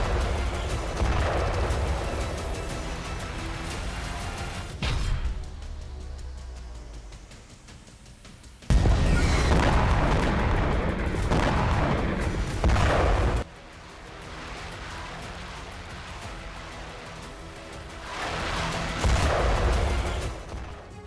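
Heavy bursts of booming artillery fire and explosions in Ukraine, loud and dense, with abrupt cuts between segments and a sharp, louder blast section in the middle.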